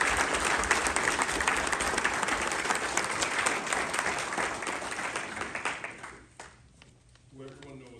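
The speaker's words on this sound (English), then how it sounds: "I would like to request a round of applause for my wife, Bernadette." Sustained crowd applause at a fire protection district promotional ceremony, dense steady clapping from many hands that fades out near the end, with a voice starting up faintly afterward.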